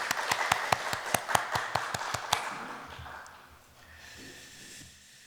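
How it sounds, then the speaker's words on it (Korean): During a Sunday church service, a congregation claps for about two seconds in a sharp, regular rhythm of distinct, fairly faint claps, which then fade into quiet room murmur. "하나님께 영광 박수 올려드리겠습니다"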